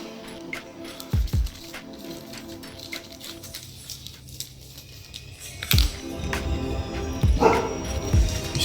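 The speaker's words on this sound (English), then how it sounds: "it's my dog." An indoor dog frightened by a thunderstorm whimpers and yips in short, scattered bursts, close by and moderately loud over handling noises and background rumble.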